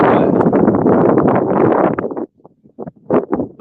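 Wind buffeting a microphone outdoors in cold weather at a trout fishing spot, a loud continuous roar for about two seconds that then breaks into short gusty bursts.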